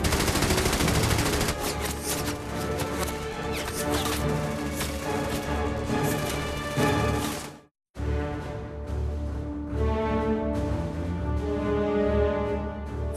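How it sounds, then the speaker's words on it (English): Heavy wartime gunfire with rapid machine-gun bursts and rifle shots in a battle near the Abbaye d'Ardennes, loud dense volleys continuing for several seconds, a brief cut to silence, then more sustained firing. "Facing heavy enemy fire"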